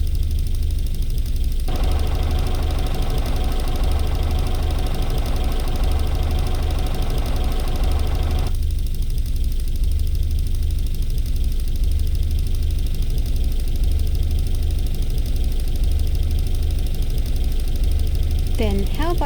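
A steady engine rattle plays under a continuous drone, with filtering switched on and off. For one stretch the sound turns duller and the rattling fades, then it returns when the filter is switched off.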